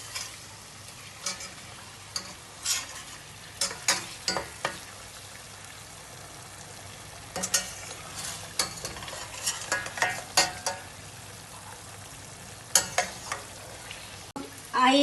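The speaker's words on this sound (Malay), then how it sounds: "Sekarang rempah pun dah nak wangi, kita masukkan telur. Kacau dalam 2 minit macam tu." Eggs being stirred into fragrant spice paste in a pan for egg kurma, with a steady sizzle of frying under repeated sharp scrapes and taps of a spatula against the pan.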